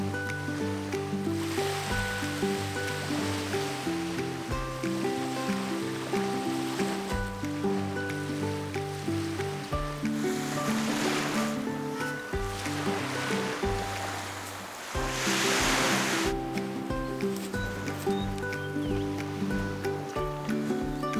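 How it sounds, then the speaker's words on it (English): Calm ocean waves washing onto a tropical Queensland shore near Crystal Creek, a steady broad wash with gentle swells rising and falling, heard alone under what sounds like a faint continuous hum. "The ocean is super calm up here."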